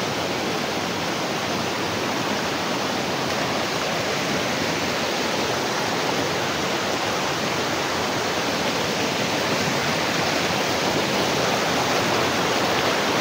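Water in a stream rushes and churns continuously, a dense, loud broadband hiss that stays steady throughout with no voices.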